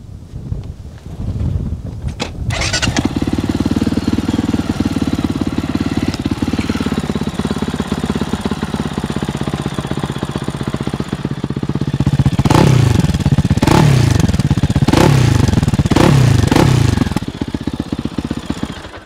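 A Fantic Caballero Scrambler 500 motorcycle starts with a sharp bark, then idles loud and close with a throaty, lumpy exhaust. Later come several quick throttle blips that rise and fall before it settles back to idle.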